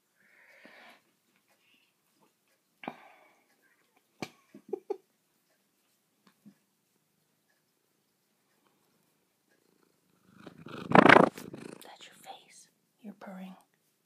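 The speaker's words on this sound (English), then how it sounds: "Purring." Indoor domestic cats give off brief, soft purring bursts close to the mic, rising to a louder rumbling spell near the end, with quiet whispered speech between.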